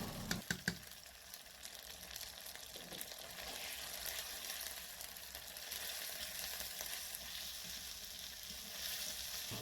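Spices and turmeric fry in hot oil with a steady, close sizzle throughout, opened by a few sharp clicks of stirring.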